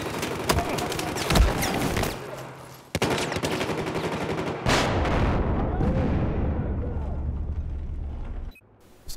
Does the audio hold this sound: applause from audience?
no